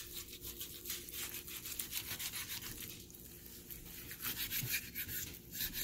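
A knife carves through a prime rib, giving faint, close-up rhythmic rubbing strokes back and forth with no talk.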